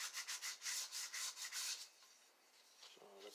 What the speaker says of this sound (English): now I'm using a 220 grit and doing a final hand sanding